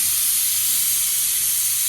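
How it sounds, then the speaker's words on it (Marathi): A pressure cooker whistle on a home kitchen stove blows steam in a loud, steady hiss that holds unbroken for about two seconds. "दुसरी शिट्टी झाली आहे"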